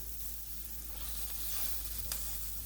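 Chipotle and Old Bay seasoned salmon fillet sizzling in a pan just after being flipped, a steady faint frying hiss with a brief sharper crackle near the end, no talk.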